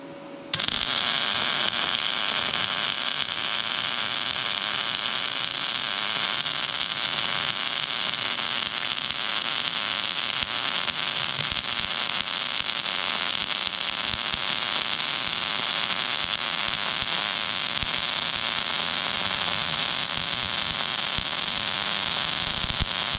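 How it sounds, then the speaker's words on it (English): Yes Welder MIG-205DS MIG welder running a long continuous bead on thick metal, a steady loud crackling hiss that starts abruptly and holds without pause, with no talking. "I'm gonna flip it around and weld the other side complete."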